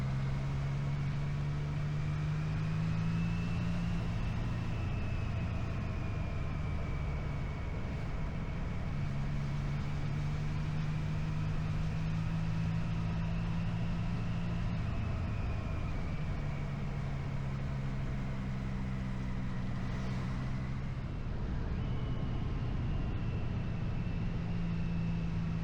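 A Yamaha XSR motorcycle fitted with an Akrapovic muffler, ridden steadily: a continuous loud exhaust drone that rises and falls gently in pitch as the revs shift, with wind rush throughout and no talk.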